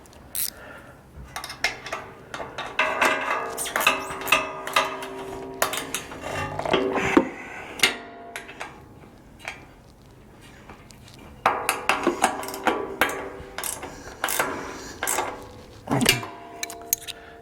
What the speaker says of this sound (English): Okay, and then I'll lock down those the rail clamp bolts again.